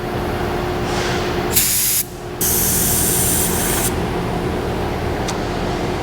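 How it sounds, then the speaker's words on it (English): A Vevor paint spray gun fires a test pattern in several hissing bursts, a long steady blast in the middle, then a brief final puff, loud and close over a constant background hum. "we get a nice full and even spray pattern from the gun"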